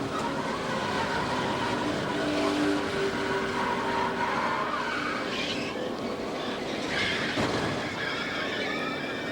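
NASCAR race cars roar past at Talladega with tires squealing and skidding, a continuous loud engine drone with a harsh scraping burst partway through as a car hits hard.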